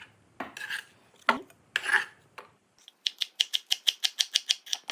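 Knife chopping napa cabbage for tomato kimchi on a board, a few irregular strokes at first, then a fast, steady run of about a dozen crisp, close chops.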